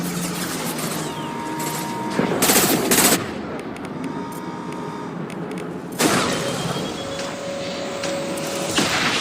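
Gunfire in the video game Mass Effect 2, sustained automatic weapon fire with louder bursts around a couple of moments, layered over a constant combat backdrop of game effects and music.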